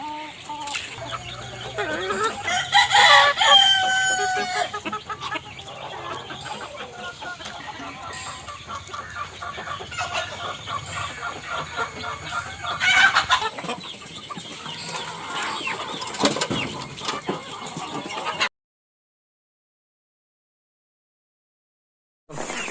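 Native country chickens cluck repeatedly in a small backyard flock in Wayanad, close and moderately loud, with a couple of louder squawking bursts and faint talk mixed in, ending in silence.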